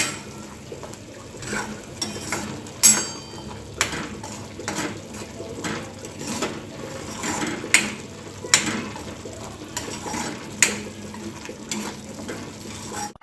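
A spoon scraping and knocking around a pan as ground raw onion and coconut masala paste fries in oil for egg curry, giving irregular taps and scrapes over a steady low sizzle, close by.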